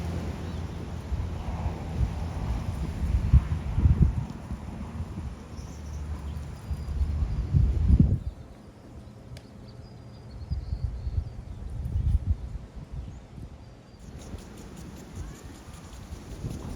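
Wind gusting across the open West Texas desert near El Cosmico on a cold day, buffeting the microphone in rough bursts with quieter lulls between.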